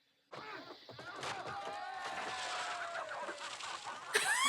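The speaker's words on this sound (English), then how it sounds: "The chickens." Chickens clucking and cackling nearby in a continuous run of calls, ending with a sudden sharper squawk.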